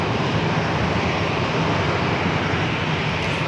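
A Gulfstream business jet takes off from San Diego airport, producing a continuous engine roar that stays fairly loud and even across the short stretch, with no voices.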